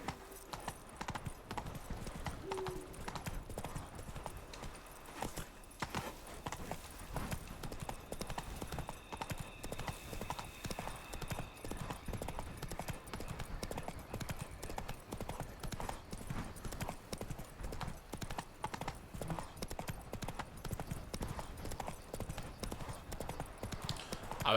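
A horse gallops steadily in The Witcher 3, its rapid hoofbeats drumming in an even, continuous rhythm for a long stretch under a soft ambient bed, with occasional faint tones and no talk.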